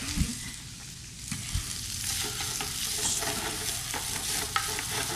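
Sweet sausage and roast pork warming in a pan, a continuous gentle sizzle with occasional stirring clicks and scrapes, close and fairly quiet.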